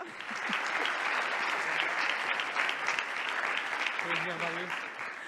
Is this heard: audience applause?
yes